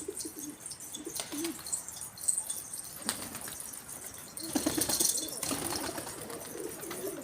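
Pigeons on a rooftop loft coo in soft, repeated phrases at close range, mixed with bursts of wing flapping and light chirps over steady outdoor background noise.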